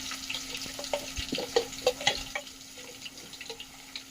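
Snails frying in a pan until reddish, a light crackling sizzle with small pops and occasional stirring clicks, fairly close.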